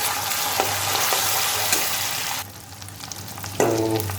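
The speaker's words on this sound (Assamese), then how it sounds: "এতিয়া মছলাখিনি অলপ ফ্ৰাই কৰি ল'ব লাগিব।" A paste of ginger, garlic, fresh and dried chilli, and turmeric fries in hot oil with a close, steady sizzle, broken by brief stirring scrapes and a louder burst of crackling near the end.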